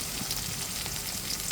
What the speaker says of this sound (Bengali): তেলের ভিতর দিয়ে দিচ্ছি রাঁধুনি, কালো জিরা আর হলো জিরা, দিয়ে দিলাম রসুন, দিয়ে দিলাম কাঁচা পেঁয়াজ